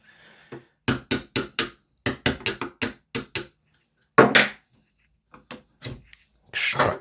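A hammer taps a pin punch to drive a pin out of a Tokyo Marui Saiga-12K airsoft gun during a Groza bullpup kit install. About a dozen sharp, close metallic knocks come in quick clusters, followed by scattered handling clatter.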